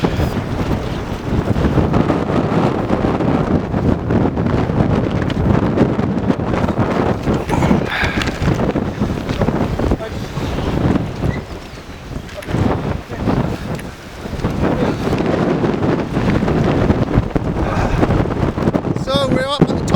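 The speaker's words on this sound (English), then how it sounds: "it's fucking windy" Strong wind at the top of Fur Tor on Dartmoor: heavy gusts batter the microphone in a constant rumbling roar that briefly eases midway, loud and close, with no clear voices.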